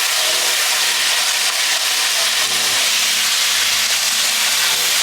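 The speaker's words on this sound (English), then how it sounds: "it's also a good idea to sear the sides. Very important. We want a nice searing" A thick filet mignon steak sears in a hot pan, giving a steady, loud, continuous sizzle and hiss throughout with no talking.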